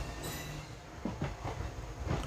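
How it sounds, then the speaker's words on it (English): Jan Shatabdi express train pulling into a station platform in India, a steady rolling rumble with rhythmic wheel clacks and a brief high squeal, heard alone at moderate distance. "the Coimbatore Mailaduturai Jan Shatabdi is arriving on the other platform"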